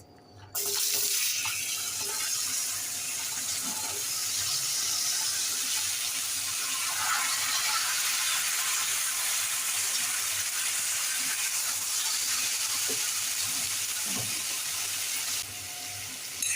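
Mixed vegetables tipped into hot oil already seasoned with mustard seeds, cumin and asafoetida for an onion- and garlic-free Bhogichi bhaji, giving a loud, steady sizzling hiss that runs unbroken close up, with no talking.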